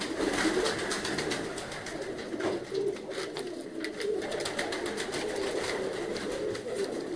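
Black-faced pigeons kept by a fancier coo steadily at close range in a night-time loft, their low rolling calls repeating throughout over a constant background hiss.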